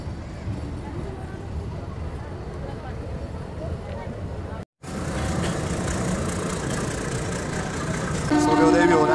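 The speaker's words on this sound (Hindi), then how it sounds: "ये मावली से हमारी गाड़ी निकलती हुई" Meter gauge train pulling out of Mavli station, a steady rumbling clatter heard from inside a carriage with wooden seats, a brief dropout midway, then louder rolling noise and a horn-like tone near the end.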